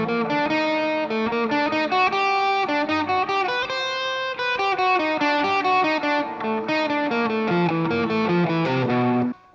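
An electric guitar with heavy distortion plays a fast fretted picking exercise, switching back and forth between notes on adjacent strings. The tone is loud and sustained, with dense, even rhythmic notes that run unbroken for about nine seconds.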